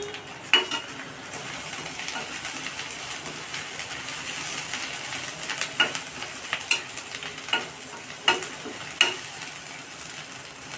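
Steady sizzling of onions and spices with turmeric frying in a pan for paneer masala, with a spoon scraping and stirring at irregular intervals, close and fairly quiet.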